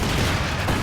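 A grenade goes off in the Company of Heroes 2 video game, a short loud burst of explosive rumble amid battle noise, alone and without talk.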